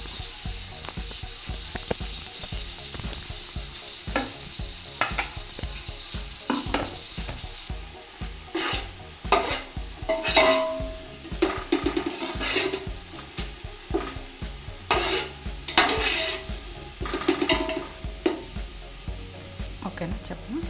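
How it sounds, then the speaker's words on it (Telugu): Ingredients for Andhra-style prawn biryani fry in a pan until golden brown, a continuous sizzle broken by frequent clattering stirs and scrapes that grow busier and louder in the second half. "ఇవి గోల్డెన్ బ్రౌన్ కలర్ వచ్చేంత వరకు ఫ్రై చేసుకోవాలి."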